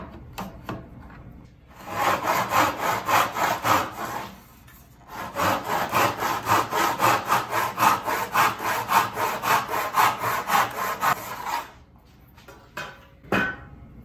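Close, rhythmic strokes of a hand saw cut through scrap wood held in a miter box, with a short pause before a second run of steady back-and-forth rasping, then a few light knocks as the work stops.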